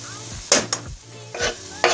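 Pork browns and sizzles in a pan while garlic goes in, a soft steady frying hiss broken by several quick scraping stirs and clinks.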